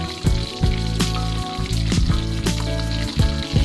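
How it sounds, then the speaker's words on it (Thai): Fish sizzling and crackling in a pan of plenty of hot oil, a loud, steady frying hiss with occasional sharper pops and spatters. "พอร้อนแล้วเราก็เอาปลาใส่ลงไปทอดเลยนะครับ"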